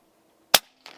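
An Air Arms S510XS Stealth Carbine air rifle in .177 fires a JSB pellet: one sharp, loud crack, then a fainter thud from the target downrange about a third of a second later.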